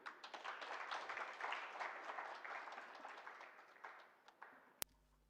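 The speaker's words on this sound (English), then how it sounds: "Please clap for him" Conference audience at the Africa Credit Rating Conference in Nairobi applauding a welcomed principal secretary; steady, moderately distant clapping that swells and slowly thins out, ending with a sharp click.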